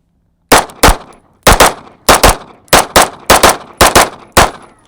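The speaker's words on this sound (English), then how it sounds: "So we got the first shots with the Kimber Pro Comp." A Kimber 2K11 Pro Comp pistol fires eight loud close-range shots, spaced as quick pairs, each sharp crack followed by a brief ringing decay with no talking.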